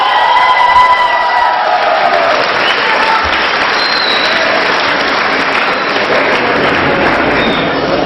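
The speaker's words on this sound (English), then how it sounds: "let's put our hands together and applaud for our unity in diversity" A large audience at an Indian cultural night claps steadily and loudly, a dense sustained wash of applause with faint cheering, without pause throughout.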